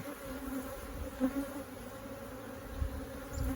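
Agitated honeybees buzzing at an open hive in a single brood chamber, a steady droning hum from many bees close by with slight swells in intensity.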